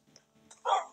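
A dog in a video game gives a short yelp followed by a louder bark, both close and brief with little else around them.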